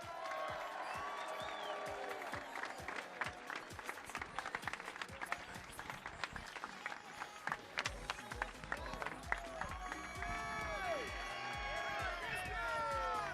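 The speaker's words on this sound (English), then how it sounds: "Everybody give a huge round of applause for Jordan Knight!" A crowd at a U.S. Open Cup trophy ceremony applauds and cheers for a player, scattered clapping and whoops building into a fuller ovation, with voices mixed in.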